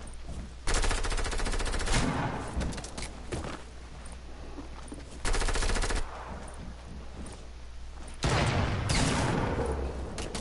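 Video game gunfire comes in three loud automatic bursts, each lasting a second or two and separated by quieter stretches of lighter game noise.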